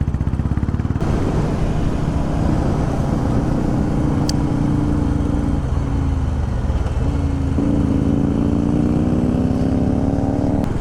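A Royal Enfield Classic 350 motorcycle rides steadily with a continuous low engine thrum and rising and falling tones as it shifts, loud and close throughout with no talk.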